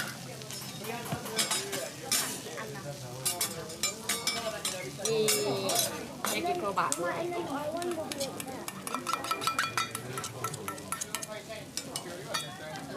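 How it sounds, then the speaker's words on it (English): Okonomiyaki batter bubbles and sizzles steadily on a hot restaurant griddle, with metal spatulas scraping and clinking throughout and people talking underneath. "that's just slowly bubbling and sizzling away on the hot griddle right in front of you"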